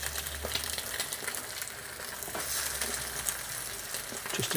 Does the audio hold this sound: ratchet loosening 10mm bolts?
no